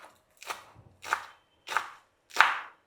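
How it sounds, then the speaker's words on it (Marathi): Fenugreek leaves chopped finely with a knife on a board: four crisp, evenly spaced chops, close and moderately loud, with quiet pauses between them. "आपण याला बारीक चिरूया."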